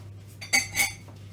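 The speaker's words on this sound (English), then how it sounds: "I'm just going to mix that together" A utensil stirs mustard into a cheese biscuit mixture in a bowl, giving two short, faint clinks close by with no talk.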